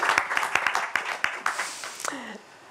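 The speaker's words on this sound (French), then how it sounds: "On peut applaudir aussi." Audience applause at a French word-competition final: a burst of hand clapping that is loudest at first and fades within about two seconds, with voices mixed in.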